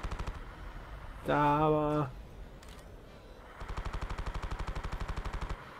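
Starship turret guns firing rapid bursts during a Star Wars Battlefront 2 space battle, a steady train of evenly spaced shots running for about two seconds at the end, after someone speaks briefly over the game audio.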